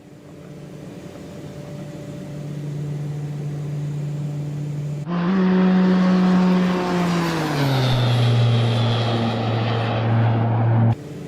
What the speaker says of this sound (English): There's a little flyby for you guys.